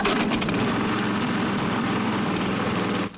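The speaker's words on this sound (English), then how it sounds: "he's spending his morning mowing" Lawn mower cutting grass in a cemetery, a loud steady close engine drone that holds without a break and drops away just at the end, with no talk.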